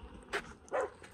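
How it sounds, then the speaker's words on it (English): A dog at a campsite gives two short, faint barks, spaced apart against quiet outdoor background. "There's Suki barking at I don't know what."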